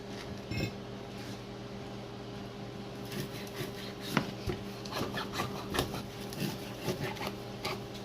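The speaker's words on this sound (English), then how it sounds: "I'm going to be using 2 crayfish. So I'll go ahead and cut them." Knife cutting through two crayfish on a board, with scattered rasping scrapes and short cuts in a steady irregular rhythm, close and fairly quiet over a constant low hum.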